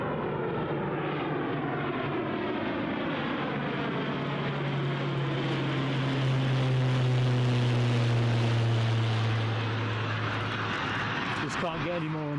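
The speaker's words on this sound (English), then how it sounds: "we'll wander out with the EasyJet A319 that is returning to Belfast" An EasyJet Airbus A319 jet departing Newcastle International Airport, its engines producing a loud, sustained roar that swells and slowly shifts in pitch as it rolls by, with a person talking over it.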